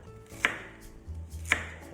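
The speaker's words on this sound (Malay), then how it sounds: "kita potong kasar-kasar sebab kita nak blender" Shallots, ginger and garlic are coarsely chopped with a knife for beef biryani, two sharp knife strikes on a board about a second apart, close and fairly quiet, with no talking.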